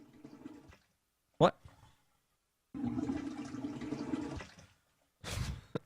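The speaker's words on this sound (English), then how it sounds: "That's a toilet flush." A toilet flush sound effect plays after a short burst of talk, a rushing watery swirl of moderate level lasting about two seconds, followed by more speech.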